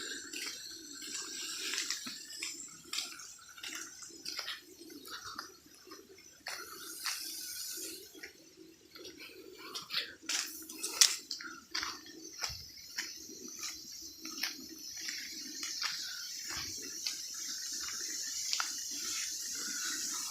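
Faint, continuous trickle of water flowing near a check dam on a rural coconut grove, with scattered drips and splashes and insect chirps in the quiet background.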